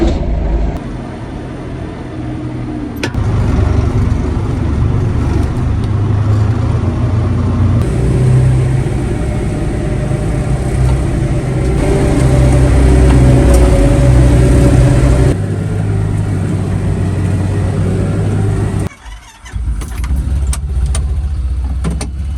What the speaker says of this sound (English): So now all I need to do is get in the tractor and take it to the field